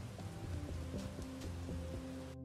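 Rain falls steadily in the Bugsnax video game, a soft continuous patter with low tonal game music underneath, ending abruptly.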